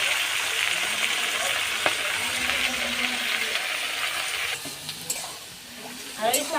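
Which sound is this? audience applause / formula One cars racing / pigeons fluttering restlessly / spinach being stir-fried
spinach being stir-fried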